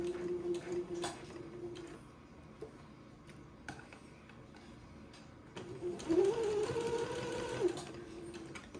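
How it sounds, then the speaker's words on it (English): Home sewing machine running a straight-stitch seam on pinned fabric, a rapid buzzing whir in two short runs with quieter handling clicks and pauses between them, close and moderately loud. "I will do my first pass of this seam with a straight stitch, taking my straight pins out as I come to them."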